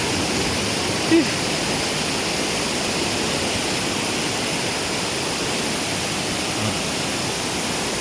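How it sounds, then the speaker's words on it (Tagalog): A small waterfall on a hike, a constant broad rushing roar of falling water heard close and steady for the entire span, with no distinct voices above it. "Yan, mini falls."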